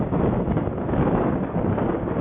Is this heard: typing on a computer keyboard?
no